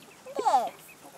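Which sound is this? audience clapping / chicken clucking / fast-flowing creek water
chicken clucking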